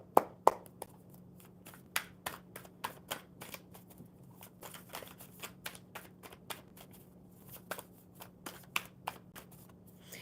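A deck of playing cards is shuffled by hand at close range, a series of sharp riffling snaps and taps spaced irregularly, with a low steady hum underneath and no talk.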